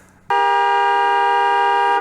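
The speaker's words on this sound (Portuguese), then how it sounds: "leva uma buzinada daquelas com som estridente" A loud, shrill car horn blasts in one long steady tone for nearly two seconds, starting abruptly after a brief moment of quiet and cutting off cleanly.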